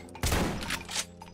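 Gunfire in the Brutal Doom 2 video game with Project Brutality, a loud burst of rapid shots that starts abruptly and stays dense for about a second before tailing off.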